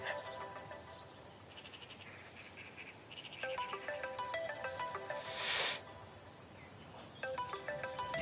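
A mobile phone ringtone plays a bright, repeating melodic pattern over quiet room ambience, starting partway through, pausing, then resuming near the end, moderately loud and close.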